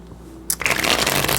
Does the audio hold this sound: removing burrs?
no